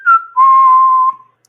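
A person whistles two clear notes close up, a short higher note followed by a longer, steady lower tone lasting about a second, with no other sound around it.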